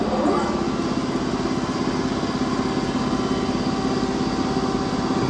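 A Cincinnati Milacron Model R-55 universal grinder with its wheel running, a steady loud mechanical drone with a fine rapid pulsing and a high whine on top, continuous and close with no talk.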